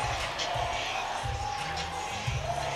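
A crowd of 12,000 at a softball stadium, a steady murmuring buzz of many distant voices with no clear cheers.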